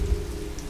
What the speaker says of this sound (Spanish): la lluvia arreciaba cada vez más